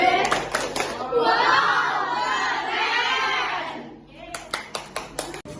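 A classroom of children bursts into loud mixed shouting and chanting, then settles into a series of sharp, rhythmic hand claps near the end, close and energetic.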